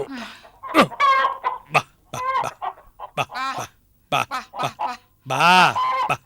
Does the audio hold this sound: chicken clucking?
yes